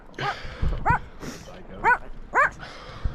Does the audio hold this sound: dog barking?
yes